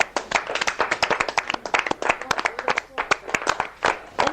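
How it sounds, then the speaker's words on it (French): A crowd of diners at a dinner in Chambéry claps for a served dish of scallop risotto with gambas, a dense burst of close, irregular hand claps with faint voices underneath. "on peut applaudir le plat"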